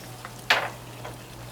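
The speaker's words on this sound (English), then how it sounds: "We're going to add the Worcestershire," Worcestershire sauce hits a sizzling seafood paella cooking on a Big Green Egg grill, giving one brief, bright splash of sizzle that fades over a low steady hum.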